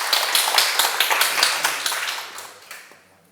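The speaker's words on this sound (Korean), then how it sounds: "이렇게 잘 해내는 질문자에게 큰 박수 부탁드립니다." Audience applause at a Sunday lecture, a crisp burst of many hands clapping that fades out over about three seconds.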